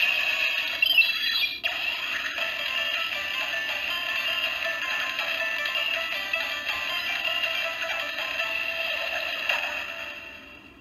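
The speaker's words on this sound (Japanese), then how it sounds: "これが変身音らしいですね。" A DX Shinobi Miridewatch toy from Kamen Rider Zi-O plays its transformation sound, a bright, tinny electronic tune and effects from a small speaker, continuous for about ten seconds and tailing off at the end.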